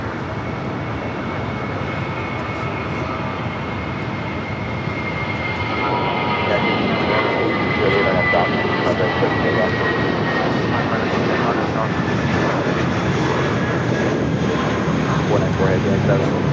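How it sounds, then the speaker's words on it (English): Spirit Airlines Airbus A320 in birthday cake livery taking off at LAX, a loud, steady jet engine roar that swells and holds with a rising whine, heard from nearby on the ground. "Next takeoff is Spirit Airlines Flight 1043 heading to San Antonio, Texas. It's another A320 with the birthday cake livery."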